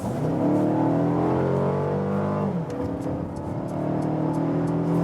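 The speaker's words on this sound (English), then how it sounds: "about that acceleration, 50 kilometers to 100, let's go" A Mercedes CLA 220 4Matic engine pulls hard from 50 to 100 km/h in sport mode, a loud, steady rising drone for about two and a half seconds, then a brief dip at the upshift before it climbs again, heard from inside the car.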